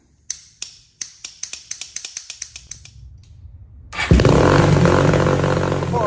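The engine of a 2003 Suzuki LTZ400 ATV is test fired. A quick series of sharp cranking clicks and pops builds up until the motor catches and settles into a loud, steady, close idle.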